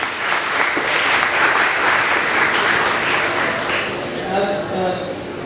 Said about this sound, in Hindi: आप सबकी बहुत सारी तालियां।